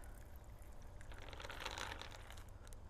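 Water poured into a plastic baggie makes a steady, continuous splashing trickle that stays close and fairly quiet, with faint crinkling of the plastic over a low background hum.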